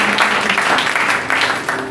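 A church congregation applauding at an evening service, a dense, steady wash of many hands clapping together, loud and continuous throughout.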